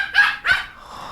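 A dog gives two quick, sharp barks close by, then falls silent.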